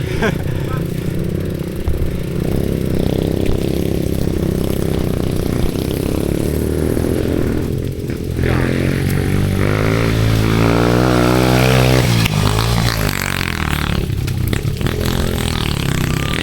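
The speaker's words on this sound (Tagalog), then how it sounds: "Pati mga motor sisibot." Motorcycle engines drone and rev close by, one rising and falling as it passes, with people talking over the noise.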